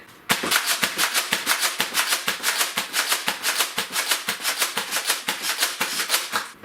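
A Nerf Double Dealer blaster fires foam darts in a rapid, steady run of sharp clacks and pops, about two dozen shots in quick succession, loud and close with no talking.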